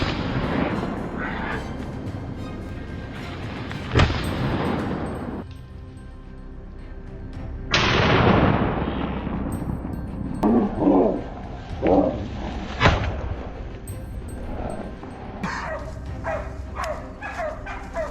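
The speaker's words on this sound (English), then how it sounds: "Almost simultaneously, gunshots from other posts echoed." Gunshots crack out during a boar hunt, several sharp, loud reports scattered across the scene with echoing tails, mixed with dogs barking and yipping nearby.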